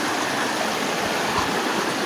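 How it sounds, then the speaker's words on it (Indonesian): Fast-flowing stream water beside rice fields, a dense continuous rushing and gurgling close by, steady throughout with no voices. "Airnya lumayan deras"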